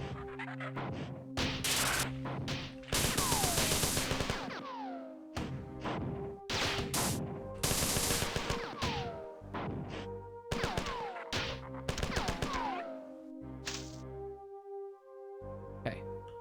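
Gunfire and chaotic combat in the video game Marathon, with repeated sharp blasts and crashing impacts at irregular intervals, layered over sustained electronic tones and sweeping effects.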